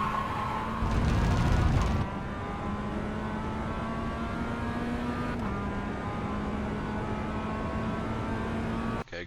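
Mazda MX-5 race car engine in iRacing at Winton Motor Raceway, a steady, loud droning note that climbs briefly and then holds with small pitch shifts, plus a short burst of wind or tyre noise early on.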